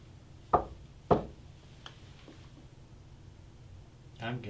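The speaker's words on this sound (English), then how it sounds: "Can you knock on the door, knock on the wood?" Two sharp knocks on wood during a public paranormal investigation at the Avon Inn in Avon, New York, evenly spaced and close, followed by quiet room noise and faint voices.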